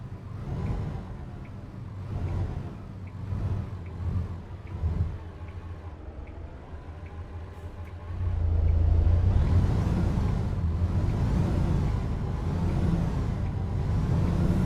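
A heavy truck in American Truck Simulator drones along with a low engine rumble, pulsing through repeated gear changes before the revs swell louder and hold, heard alone with no talk.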